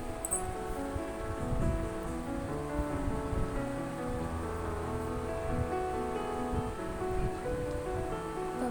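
Masala poli cooks in oil on a hot tawa, making a soft, steady crackling sizzle that runs continuously at moderate volume, close by and without speech.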